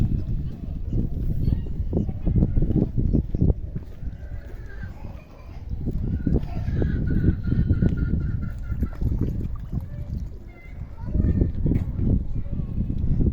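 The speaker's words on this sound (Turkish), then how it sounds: "Bunlar da yaban ördeği mi oluyor?" Honking and quacking from a group of wild ducks nearby at a zoo, with people talking over and between the calls.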